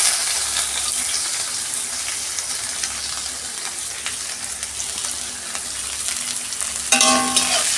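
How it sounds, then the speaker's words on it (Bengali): Onions frying in a pan, a steady close sizzle with light stirring and scraping throughout, ending in a brief louder splash and rattle near the end; no talking. "এই যে পেঁয়াজটা আমার ভাজা হয়ে গেছে"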